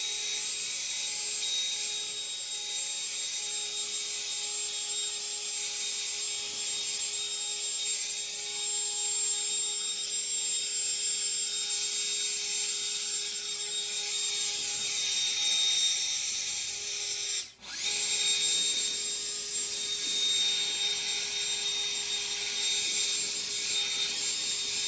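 A handheld leaf blower roars steadily and close while clearing yard debris on a second pass, its constant whine dipping briefly once before resuming.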